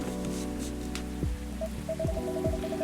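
Rain falls outside in the Coffee Talk video game, a soft steady patter with a low hum beneath, accompanied by gentle game music tones and no speech.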